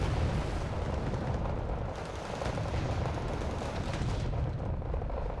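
Napalm strike hitting a tank in the war game Wargame Red Dragon, a dense, continuous roaring crackle of fire and explosions, loud and sustained without a break.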